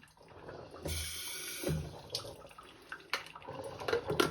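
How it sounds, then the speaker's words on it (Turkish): Water running and splashing from the gaps of a Goldmaster coffee maker's thermos carafe that does not close fully, an uneven trickle and splash close by with a few knocks, and no talking. "Bu aradan ve şuradan su akıtıyor."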